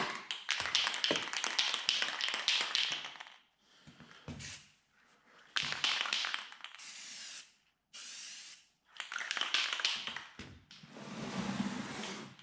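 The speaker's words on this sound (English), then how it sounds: "I figured I could at least show you guys me painting it" Spray paint hisses onto a 1972 Alumacraft 14-foot aluminum row boat in long close bursts separated by short pauses and the rattle of a shaken can.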